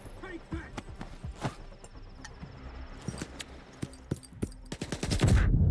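Gunfire in the S.T.A.L.K.E.R. 2 video game, shots cracking out irregularly amid rumbling noise and a louder burst at the end.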